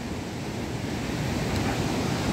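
Barti Nala, a glacier meltwater stream on the Shrikhand Mahadev trek, rushes with a loud, steady broadband roar of water, continuous and close, with no voices.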